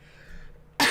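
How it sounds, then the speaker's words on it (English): A single loud, harsh cough bursts out abruptly near the end, after a stretch of quiet room tone with a faint background hum. "Here's my cough coming"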